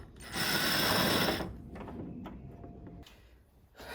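Ratchet mechanism working on a door bolt inside the door panel of a 2010 Mini Cooper R56, a loud dense clicking burst at first, then quieter intermittent mechanical clicks and scrapes close by.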